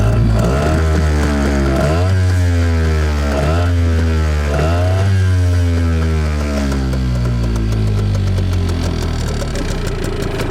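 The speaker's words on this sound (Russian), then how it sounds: "Зафиксировали, как работает мотор на 92-м бензине." A Tohatsu 5 outboard motor running on 92-octane petrol, close and loud, is throttled up in three or four rising revs that fall back to a steady idle-like drone.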